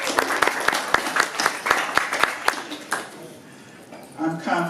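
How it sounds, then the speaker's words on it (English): Conference audience at a cannabis and healthcare event gives a round of applause: scattered, fairly close claps with a speaking voice over them, thinning out after about three seconds and giving way to quieter room sound. "I'd like to start first by giving you guys a round of applause,"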